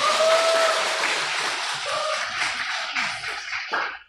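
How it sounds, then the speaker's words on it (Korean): Church congregation applauding together for the young people of the next generation at an anniversary service, a dense, steady wash of clapping close and loud that holds for about four seconds and then thins out at the end. "박수라도 세게 한번 쳐주세요"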